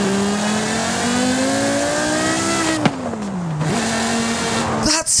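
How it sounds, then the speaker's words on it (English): Porsche Carrera GT engine in Forza Horizon 5, a high-pitched rev rising steadily, then dropping and climbing again through gear changes with a manual clutch, loud and close, with a sharp blip near the end. "That's how a Carrera GT should sound."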